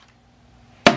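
A Lionel Mercury toy missile launcher fires with a single sharp, loud snap near the end, following a quiet stretch with only faint background hum.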